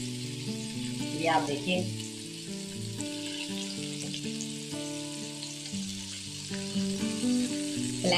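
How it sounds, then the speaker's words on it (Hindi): Chicken pieces shallow frying in oil in a pan for a Mughlai handi, a steady close sizzle throughout, with someone speaking briefly over it and faint background music. "7 से 8 मिनट एक साइड से, 7 से 8 मिनट दूसरी साइड से शैलो फ्राई करेंगे इनको इस तरीके से"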